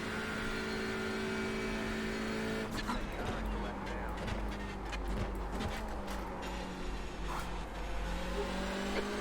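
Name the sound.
race car engines in iRacing video game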